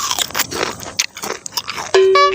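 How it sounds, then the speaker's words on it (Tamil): Crisp snack crunching and chewing, several close bites in an irregular rhythm, followed by a brief steady tone near the end. "வந்தோடனே நொறுக்கல்."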